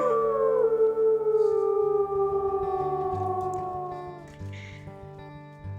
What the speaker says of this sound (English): I never know how easy it is to hear me over all of this howling